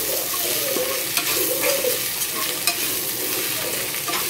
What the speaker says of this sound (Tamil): உருளைக்கிழங்கையும் ஆட் பண்ணி ஒரே ஒரு 1 மினிட் வந்து நல்லா வதக்கிக்கலாம்